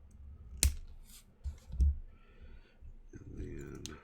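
Wire cutters snip a lead on a Sundown Audio SAZ-3500D amplifier board, giving a sharp close click followed by a few softer clicks and handling noises, with a voice talking faintly in the background.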